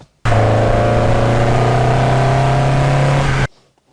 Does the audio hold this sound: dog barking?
no